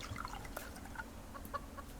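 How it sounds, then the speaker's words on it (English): Chicken in the survival game Subsistence, faint soft clucks and small dripping-like ticks scattered over a low ambient hum, quiet and close. "Just want to check on the chicken before I head in."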